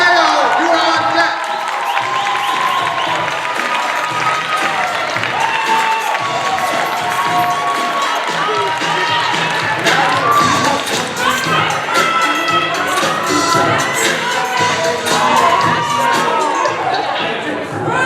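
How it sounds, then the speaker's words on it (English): At a teen poetry slam final, a packed crowd claps, cheers and whoops loudly and continuously throughout, a dense roar of applause with scattered shouts. "Let's keep the applause going for the poet from Raytown"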